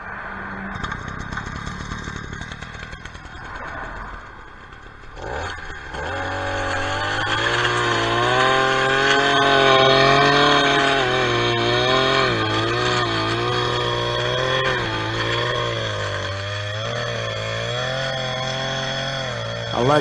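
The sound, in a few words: string trimmer cutting thick brush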